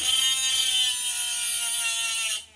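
An angle grinder scouring the surface of a silver-plated dish gives a loud, high, steady whine that holds for a couple of seconds, then cuts off abruptly.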